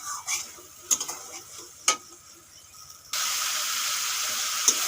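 Spice paste sautéing in a pan for a duck egg and potato curry, with a few sharp scraping stir strokes over a soft sizzle, then a loud, steady hiss of frying that fills the latter part.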